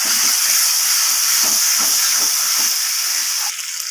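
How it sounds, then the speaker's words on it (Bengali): Pointed gourd fried earlier sizzles steadily in hot oil in a pan while being stirred for a fish curry with potato and eggplant, a loud continuous hiss broken by soft scraping strokes, with no one talking. "পটলগুলো দেওয়ার পর আমি আবারও কষিয়ে নিচ্ছি এইভাবে নাড়িয়ে চাড়িয়ে"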